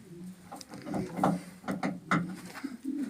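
Pigeons, including Polish breeds, coo softly in an aviary, low throaty calls that repeat and overlap at close range amid light rustling.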